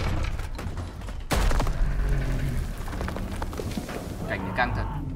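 Gunfire and explosions from the World War II shooter Call of Duty WWII: a heavy blast hits early, followed by rumbling booms and scattered shots, while someone talks over the battle.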